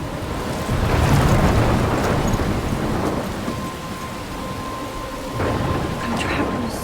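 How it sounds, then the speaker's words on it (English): A thunderstorm in the video game Life is Strange, with heavy rain hissing steadily and deep thunder rumbling and swelling throughout, close and loud, without speech. "I'm trapped in a storm?"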